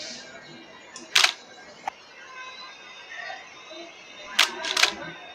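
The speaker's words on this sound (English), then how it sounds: "when the camera is in HDR mode, the shutter sounds different" A Nikon DSLR shutter fires in HDR mode, rapidly taking several frames: a quick cluster of clicks near 1.2 s, one soft tick, then a louder burst of rapid clicks near 4.5 s. The shots are close and crisp over a quiet room hum.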